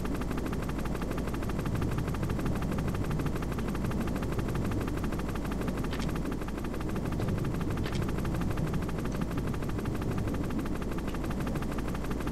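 Helicopter in the video game Metal Gear Solid, a loud steady rotor thrum that pulses rapidly and continuously, with a couple of faint sharp impacts over the drone.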